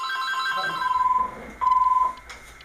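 A telephone rings with an incoming call, loud close electronic trills in two long bursts separated by a brief gap.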